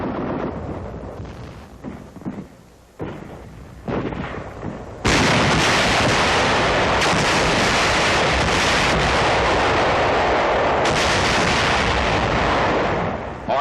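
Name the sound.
satchel charge explosions clearing out caves on Okinawa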